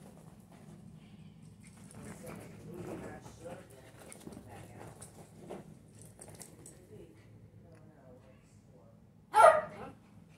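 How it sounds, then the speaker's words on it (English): A dog gives one loud, sharp bark near the end, after a stretch of quiet shuffling and faint movement sounds outdoors. "Woof woof."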